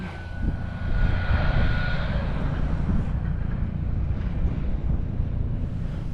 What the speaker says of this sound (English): The rescue helicopter's flying over.